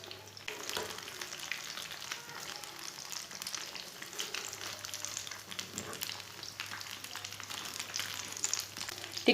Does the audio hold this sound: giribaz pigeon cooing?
no